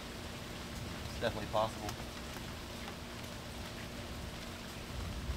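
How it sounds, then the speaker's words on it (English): Steady rain falls outdoors around a person seated in a chair, a soft continuous hiss that runs throughout, with a few brief spoken words and small clicks near the start. "it'd be kind of peaceful to have a video of me just sitting in a chair in the rain talking"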